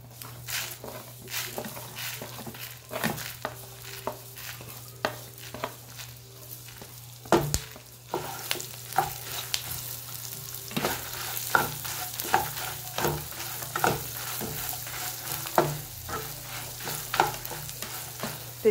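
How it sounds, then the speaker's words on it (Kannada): Fenugreek and coriander seeds fry in a pan, crackling and sizzling steadily while a spoon scrapes and stirs in a quick, irregular rhythm throughout, close and fairly loud. "ಮೆಂತ್ಯ ಹಾಕೊಳ್ಳೋಣ, ಹಾಕೊಂಡು ಚೆನ್ನಾಗಿ ಫ್ರೈ ಮಾಡ್ಕೊಳ್ಳೋಣ"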